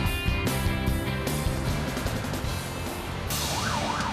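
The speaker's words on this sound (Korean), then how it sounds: "새벽 4시 소방차의 사이렌 소리가 도심의 정적을 깨운다." A fire truck's loud, continuous siren wails and warbles close by at 4 a.m. in a city, its rising and falling tone sweeping over dense traffic and engine noise.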